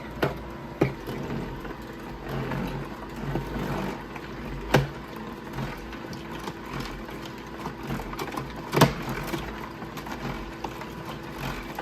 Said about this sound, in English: I can hear it hitting the ice though on that evaporator